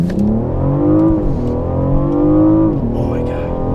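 A 2017 BMW M760i engine growling under acceleration, a steady deep rising drone from inside the car with rev swells and a gear change, with a voice talking faintly under it.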